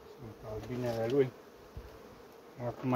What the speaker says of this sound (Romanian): sunt albinele lui